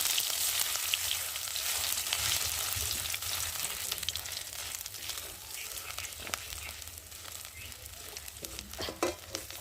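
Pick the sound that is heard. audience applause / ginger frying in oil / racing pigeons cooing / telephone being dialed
ginger frying in oil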